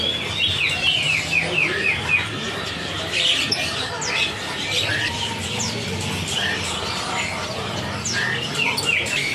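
Caged lovebirds and siskins at a bird market give off bright, rapid chirps and short squawks, steady through the whole stretch over a busy background, with faint voices nearby.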